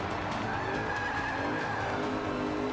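Tires squeal steadily as a race car slides through a turn in Forza Motorsport 5, a continuous high-pitched skid over the engine's constant roar that stays loud throughout.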